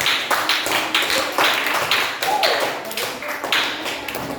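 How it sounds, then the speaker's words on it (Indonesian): A classroom of students claps for a presenting group in a brisk, rhythmic pattern of sharp, nearby hand taps, the beats grouped and repeated evenly with almost no talking. "beri tepuk tangan untuk kelompok 1"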